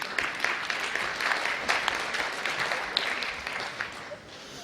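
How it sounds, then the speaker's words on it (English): A roomful of residents at a Sherborn town meeting applauds, a dense wash of clapping from many hands that carries on evenly before easing slightly near the end. "Are you applauding for parliamentary procedure?"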